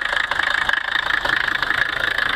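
A 1977 Mercedes 300D with a non-turbo diesel engine idles cold, a loud, steady close-up clatter with an even, rapid knocking rhythm and no voices.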